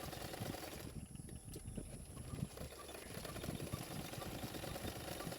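A sewing machine stitches along the edges of blouse lining fabric with a steady, fast mechanical chatter and whir that runs continuously, fairly quiet and close, with no talk over it.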